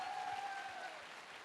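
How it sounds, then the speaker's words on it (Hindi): Steady applause from a crowd, a dense even patter of clapping that holds for the whole moment, with a faint tonal whine running over it. "मैं चाहूंगा एक बार जोरदार तालियां होनी चाहिए।"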